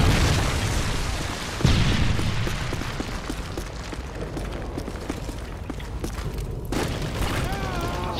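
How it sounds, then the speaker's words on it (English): Predator missile strike in Call of Duty: Modern Warfare 3 multiplayer, a sharp loud boom near the start followed by a rumbling, dense game soundscape with scattered pops and blasts, and voices talking over it. "Friendly predator missile inbound."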